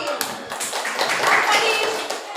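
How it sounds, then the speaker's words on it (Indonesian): Scattered classroom clapping for a student named Fadil, a group of children applauding fairly near with uneven, overlapping claps over a couple of seconds, mixed with murmuring voices. "Tepuk tangan untuk Fadil"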